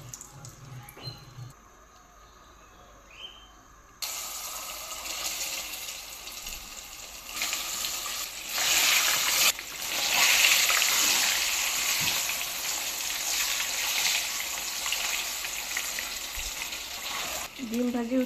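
Peeled boiled eggs frying in oil seasoned with turmeric and salt, a steady broadband sizzle that swells louder partway through and keeps hissing to the end, with some kitchen clatter early on.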